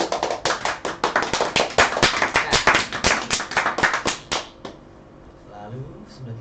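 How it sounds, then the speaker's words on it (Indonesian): A small audience claps for a band's vocalist being introduced at a Halloween show, a dense burst of loud handclaps lasting about four and a half seconds before fading into quiet room tone with faint murmuring. "Tepuk tangan."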